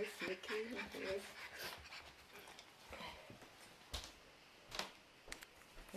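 A puppy pants and whimpers close by, giving short breathy huffs and thin high whines in irregular bursts, with a person talking at points.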